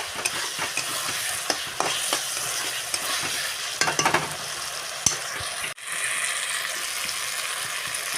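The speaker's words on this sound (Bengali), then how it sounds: "ভেজে রাখা আলুগুলো দিয়ে দেবো এখনও ভালো করে একটু কষিয়ে নেব মশলার সঙ্গে" Fried potato pieces are stirred with spices in a pan for a river fish curry, steady sizzling with frequent scraping clicks of the spatula and a brief dip in sound near the end.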